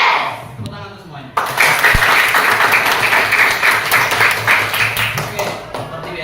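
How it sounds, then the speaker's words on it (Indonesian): A school class in an Indonesian junior high classroom claps together in a loud, sustained burst of applause lasting several seconds, with a few voices mixed in. "Tepuk tangan untuk semuanya."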